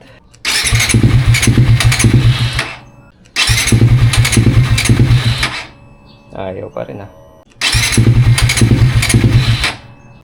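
A Suzuki GSX 150 motorcycle engine with an aftermarket exhaust on the stock ECU cranks and sputters to life three times, each run lasting a couple of seconds before dying out, with a brief voice between attempts.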